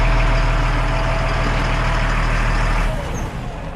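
An LMTV military truck's diesel engine idles with a loud, close, deep rumble, then shuts off near the end, leaving a fading quieter hiss.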